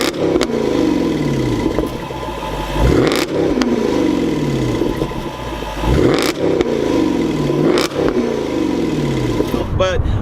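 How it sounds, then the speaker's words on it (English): A 2011 Jaguar XKR's 5-liter V8 revved in a series of sharp blips about every three seconds, each surge rising and falling back to a deep rumble. The sound is close and fairly loud. "it has that 5-liter V8, and it has a nice rumble to it"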